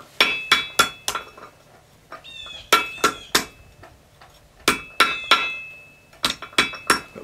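Steel being hammered over a hardy tool set in an anvil while forging a primitive adze: sharp ringing metallic strikes in quick clusters of three or four blows, separated by short pauses, loud and close.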